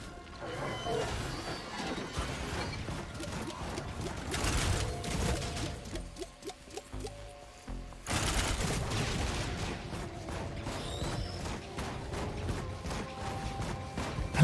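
A turret in Risk of Rain 2 fires rapid bursts of gunfire over the din of game effects. The shots run in dense volleys, break off briefly in the middle, then resume loudly.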